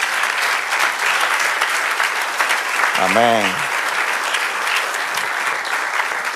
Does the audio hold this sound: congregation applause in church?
yes